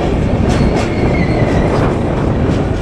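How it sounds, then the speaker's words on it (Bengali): A double-decker train rolls past close by with a steady loud rumble and rhythmic clickety-clack of its wheels, and no voices. "বন্ধুরা দেখো দোতলা ট্রেন"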